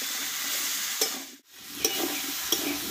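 Pumpkin and tomato sauté in a pan with five-spice seasoning and salt, giving a steady close sizzle broken by a few sharp clinks and scrapes of a stirring spoon.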